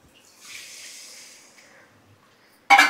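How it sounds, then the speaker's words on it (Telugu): A glass of water poured into a pot of jackfruit curry with onions, chili and masala powders, a soft splashing pour lasting about a second and a half that fades out, then a sharp loud clatter at the end. "1 గ్లాస్ వాటర్ పోస్తున్నాను."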